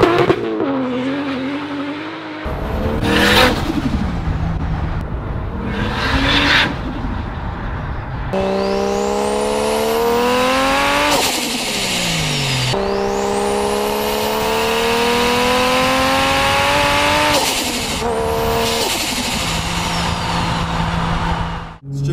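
450hp 1JZ-engined Toyota Chaser Tourer V with an external wastegate, revving hard in repeated loud sweeps: rising screams, sharp drops, turbo whistle and wastegate flutter, close and dominant throughout.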